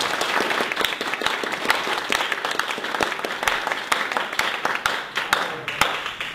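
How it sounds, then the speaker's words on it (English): An audience at a business presentation applauds speaker Chris Kochmanski with steady, dense clapping from many hands, sharp individual claps standing out throughout, near and sustained with no talk over it. "Let's have another round of applause for Chris."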